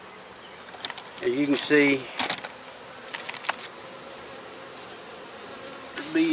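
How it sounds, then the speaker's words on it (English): Bees are shaken from a hive and loaded, and they buzz as a dense, constant drone throughout, while someone talks briefly over it. "That's how we shake bees here and load bees."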